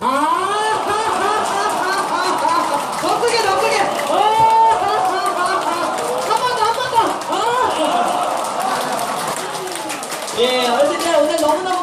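An audience at an elders' banquet during a laughter-therapy session claps together steadily while voices shout and laugh over it, a dense, lively noise that continues throughout.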